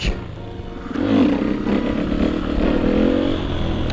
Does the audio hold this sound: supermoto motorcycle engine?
yes